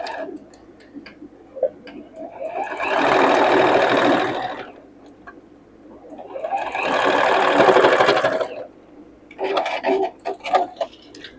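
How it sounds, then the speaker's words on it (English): A sewing machine stitches across the lining of a circular fabric bag in two runs of rapid, even stitching, with quiet handling clicks and taps before, between and after. "We're going to stitch just across here."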